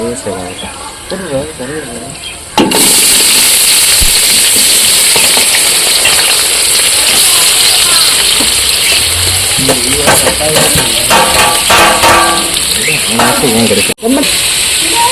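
Sliced large onions, about three quarters of a kilo, dropped into hot oil in a pan for chicken gravy, bursting into a loud, continuous sizzle after a few seconds of talk, with stirring scrapes and a brief pause near the end.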